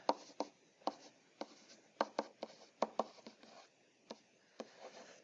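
Marker or chalk writing on a board during an algebra class, heard as a quiet series of sharp taps and short scratchy strokes in an irregular rhythm, close by, with no talking over it.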